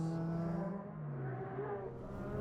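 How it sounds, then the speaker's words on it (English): A street race car on the Kanjo Loop in Japan warms up its tires, its engine droning and shifting pitch with revving tones in a loud, continuous whir. "We're entering the Kanjo Loop now. Whoa, warming up the tires."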